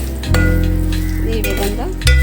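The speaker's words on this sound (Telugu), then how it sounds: "జీలకర్ర, కరివేపాకు వేయించుకోవాలి." Cumin seeds and curry leaves sizzle in hot oil in a pan for Telugu palli karam podi, a loud, close, continuous frying hiss with a brief stir midway and a fresh burst of sizzle at the end.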